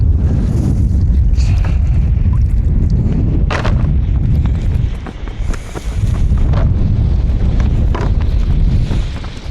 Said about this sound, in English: Gosh, the wind is not making this easy, guys.